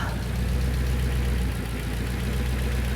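An Audi C5 RS6 engine idles steadily up close after a cold start with the boost pipe off, a low uneven rumble with a slight knocking roughness and no voices.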